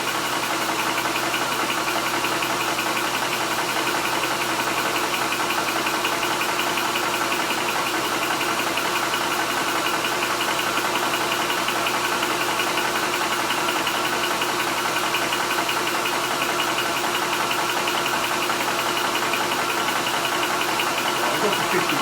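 An FX DRS Classic SHP high-pressure air compressor pumping up from empty, a loud continuous mechanical hum with rapid steady knocking pulses running without a break throughout.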